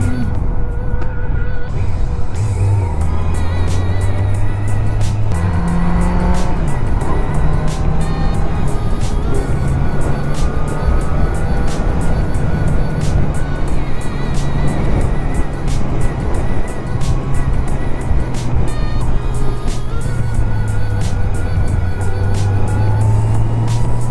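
A loud quad bike engine revs up and down repeatedly, rising and falling in pitch, close by and continuous without pause.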